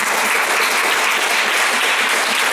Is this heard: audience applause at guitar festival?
yes